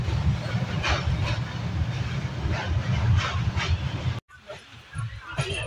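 The inside of a moving train carries a constant loud rumble and rattle that cuts off abruptly near the end, followed by quieter cabin sounds with faint voices.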